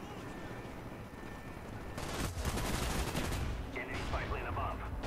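Rapid automatic gunfire from the Call of Duty: Black Ops video game, dense sustained bursts growing louder midway over a continuous noisy battle bed, with faint voices underneath.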